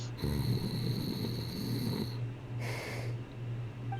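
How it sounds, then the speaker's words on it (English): A sleeping character in the video game Soul Blazer snores in a steady, droning rhythm. Each breath rumbles low and even beneath a constant electronic hum and occasional bright game tones. "1 second she's talking to us, the next she's out like a light. Snoring is supposed to mean you're having problems breathing in your sleep."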